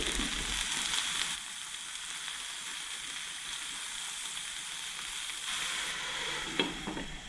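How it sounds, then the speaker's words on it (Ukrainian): Mushrooms frying in a pan after onions, a steady sizzle and crackle throughout, with a brief stirring clatter near the end. "Як цибулька підрумянилася, додаю гриби."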